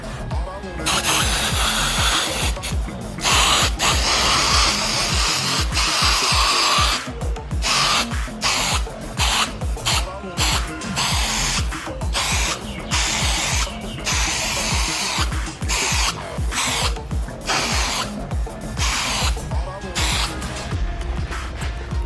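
Primer sprays onto a repaired car taillight panel in repeated short hissing bursts, loud and close, with brief pauses between passes and a person talking at times.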